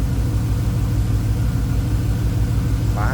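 A 5.3 liter Vortec V8 engine in a 1954 Chevrolet 3100 street rod idles steadily, a deep, even low rumble close by, with a brief voice near the end.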